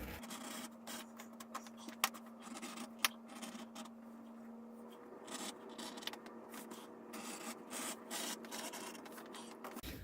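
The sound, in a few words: edge beveling a leather strap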